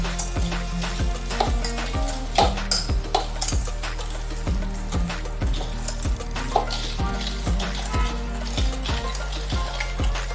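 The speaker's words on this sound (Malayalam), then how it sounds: "അപ്പോൾ പഞ്ചസാരയും പഴവും കൂടെ ഒന്ന് മിക്സ് ചെയ്ത് കൊടുത്തു" Sugar and banana are stirred together in a bowl for a wheat banana cake, with repeated scraping and tapping strokes of a spoon against the bowl, close and steady throughout.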